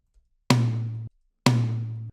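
Two single hits of a tom drum sample in an Ableton melodic techno drum setup, panned slightly left, each a sharp attack with a short tonal decay, evenly spaced about a second apart, clear and isolated.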